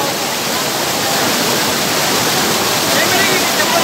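Heavy water crashes over the Bushi Dam in a steady, dense roar, loud and constant throughout with no breaks.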